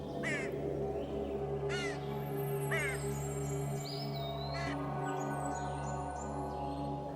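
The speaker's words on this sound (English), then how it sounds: "No one could hear me except for those stupid crows laughing at me." Crows caw in a short series of harsh calls, four or so spaced through the stretch, over a steady low hum and background birdsong.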